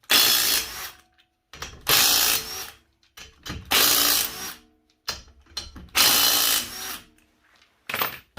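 Ratcheting power tool spinning a 19 mm socket on a 2016 Chevy Spark 1.4L during clutch work, in five loud bursts of about a second each separated by short pauses and quieter clicks.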